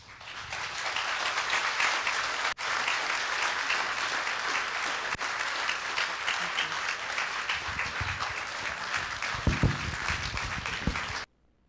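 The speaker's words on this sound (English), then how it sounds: "can we have one last round of applause for all of our graduates and our current participants today?" An audience at a county drug court graduation ceremony gives a long, sustained round of clapping that fills the hall, then cuts off abruptly at the end.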